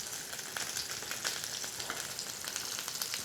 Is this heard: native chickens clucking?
no